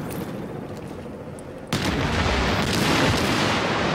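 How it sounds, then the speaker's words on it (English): Explosions and gunfire in The Division beta video game, a muffled distant rumble that jumps into a sustained, dense roar of blasts and shots. "see, there's lots of explosions going off in there"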